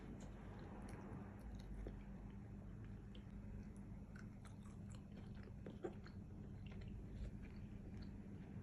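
Someone bites and chews homemade watermelon rind candy, soft crunchy chewing clicks scattered over a low steady background hum, close and fairly quiet, with no talking.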